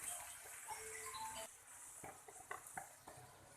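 Masala for raw mango rice being stirred in a pan, a spoon scraping and clinking against the metal in irregular strokes over a faint sizzle, close and moderately quiet with no talk.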